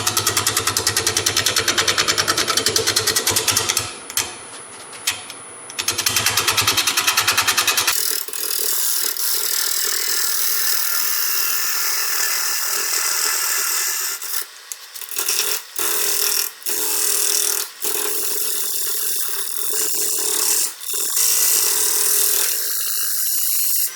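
Honey locust wok blank spinning on a wood lathe: a loud, steady mechanical whir with a ratcheting edge that cuts off briefly early on, then continues as a broadband grinding hum broken by short gaps and bursts.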